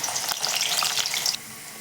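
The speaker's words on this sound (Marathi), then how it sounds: "आता आपण एक एक करून अशा छान वड्या घेऊयात तळून।" Spinach vadi fry in hot oil in a kadhai, giving a loud, close crackling sizzle that cuts off abruptly partway through and leaves a quieter background.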